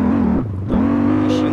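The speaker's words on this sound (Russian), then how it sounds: "Машина очень сильно рвется. Очень быстрая машинка." A BMW M5 F10 sedan engine in Euro Truck Simulator 2 revving hard, rising tone, a brief dip as it shifts, then climbing again, loud and close.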